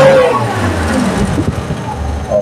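A Suzuki Carry 1.0 with a corroded cylinder head and hard morning starts revs loudly and close up when given gas, the engine rising and dropping under some nearby talk.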